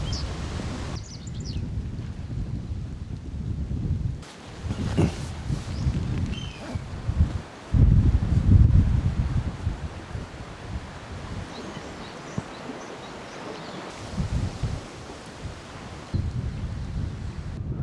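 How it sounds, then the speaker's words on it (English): Strong wind buffets and roars in gusts, with rumbling microphone noise that swells and drops, broken by brief lulls. "Next morning, the rain has briefly stopped, but the wind hasn't."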